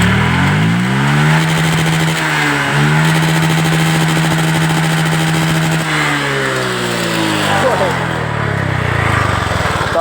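A Honda Vario 125 scooter with an ignition fault runs loud and close right after starting, its engine revving up and down in swells with a steady buzzing drone.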